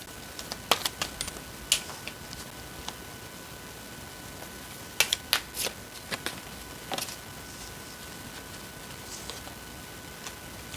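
Tarot cards being shuffled and laid down produce scattered soft ticks and short papery clicks, isolated and close, over a quiet hiss.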